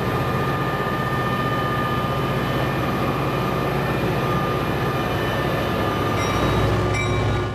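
Amtrak Spirit of California passenger train departing Davis station in 1983, a loud, steady rumble of engine and rolling cars that holds close and continuous throughout.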